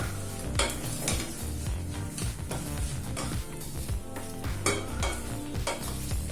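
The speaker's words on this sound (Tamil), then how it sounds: "நல்லா 1 நிமிஷம் வரைக்கும் சிக்கனை நல்லா வதக்கிக்கோங்க." Chicken pieces sautéing in a pressure cooker for chicken gravy, with a steady sizzle and repeated scraping, stirring clatter of a spoon against the pot, close and continuous with no talking.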